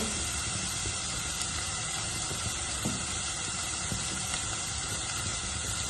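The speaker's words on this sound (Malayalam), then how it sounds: "വെളുത്തുള്ളി അരിഞ്ഞത്, കറിവേപ്പില ഇട്ട് കൊടുക്കാം." Chopped garlic, curry leaves and ginger hit hot oil for a Kerala-style roasted soya chunks dish, giving a dense, steady sizzle that runs loud and unbroken throughout.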